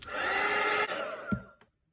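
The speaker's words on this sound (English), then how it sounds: "I'm gonna dry this." A hair dryer blowing on a watercolour painting, a loud steady whirring roar that dips briefly, surges again and then cuts off, leaving silence.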